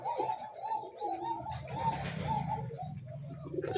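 Pet pigeons in a loft cooing close by, soft repeated throaty coos overlapping in a low rolling rhythm with faint chirps and light rustling around them.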